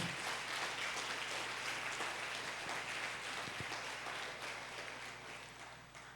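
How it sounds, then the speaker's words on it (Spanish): A church congregation at a family service applauds in a sustained, dense burst of clapping that slowly fades toward the end. "Dale un aplauso al Espíritu Santo de Dios"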